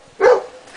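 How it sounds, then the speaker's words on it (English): A dog gives a single short bark nearby, over faint background noise. "Why is he barking at me?"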